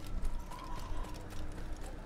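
Horse hooves clip-clop at a steady trot in the Assassin's Creed video game, quiet rhythmic thuds repeating over a soft ambient background.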